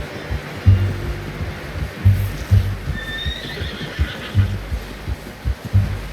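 A horse in the Red Dead Redemption 2 video game neighs with a rising high whinny while heavy hoof clops thud steadily underneath, loud and close, with no voices.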